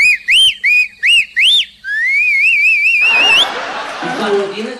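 A person whistles a series of short rising notes, then a longer wavering whistle, before laughter and chatter take over.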